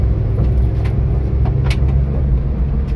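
A dump truck drives along a road at speed, a constant low rumble of engine and tyres close by with a few faint rattles, no voices.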